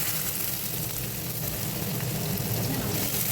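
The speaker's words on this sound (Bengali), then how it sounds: "এবার একটু দিয়ে আলু আর গাজরটা ভাজা ভাজা হয়ে যাবে," Potatoes and carrots frying in oil for chira polao, a steady, even sizzle that stays constant throughout with no voices.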